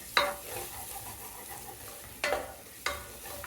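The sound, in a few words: stirring ginger garlic paste frying in a pan for veg biryani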